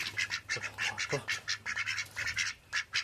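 A group of ducks quacks steadily while eating feed, their rapid overlapping calls coming in close, repeated bursts with faint background noise.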